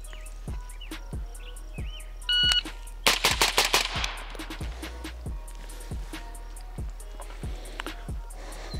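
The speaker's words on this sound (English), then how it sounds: "Stage 2 is at 5 yards. You will fire 5 rounds in 2 seconds." Five pistol shots fired rapidly at a target 5 yards away on an outdoor range, sharp cracks in a quick burst after a beep, with a steady chirping of insects in the background.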